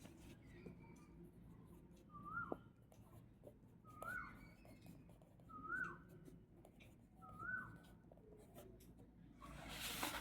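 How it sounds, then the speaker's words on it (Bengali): Pen or pencil writing an answer on paper, a soft scratching pattern with several short repeated strokes, faint and close, in a quiet room without talk. "আমি লিখে দিচ্ছি।"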